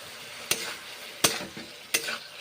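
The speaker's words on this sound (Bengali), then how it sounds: "নেড়ে চেড়ে কষে নিচ্ছি মশলা কষে কষে রান্না করছি তরকারি" Spices for a mixed vegetable curry fry with a soft continuous sizzle while a spoon stirs the pan, giving three distinct scraping strokes at even intervals.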